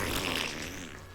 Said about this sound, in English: There's a lot of farts on the stream now.